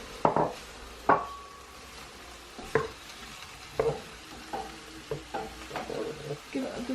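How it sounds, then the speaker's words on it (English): Chopped tomato and peppers stirred in a pan with a utensil, a series of sharp scraping clacks against the pan at irregular intervals over a soft, steady sizzle, close and clear. "give it a good stir"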